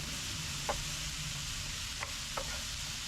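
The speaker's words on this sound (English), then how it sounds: "Go ahead and throw in our garlic. Get that mixed in there." Garlic stirred into leftovers sizzling in a pan, a soft steady fry with a few light scrapes of the spoon, close and fairly quiet with no talking.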